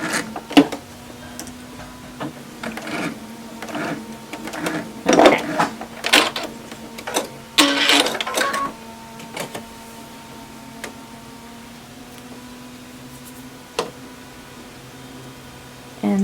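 A sewing machine back-stitches a face mask with a filter pocket, giving a close mechanical hum broken by short rattling bursts of stitching and scattered clicks, with no voices.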